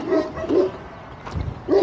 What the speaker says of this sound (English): We have some dogs that are not happy with us being here, that's for sure.